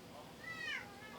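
A cat at home gives a single short, faint meow from nearby, a brief rising and falling cry over steady background hiss.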